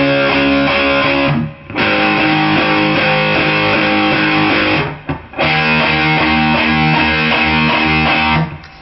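Heavily distorted electric guitar chugs power chords in a riff, loud and dense, with two brief gaps between the phrases and no voice over it.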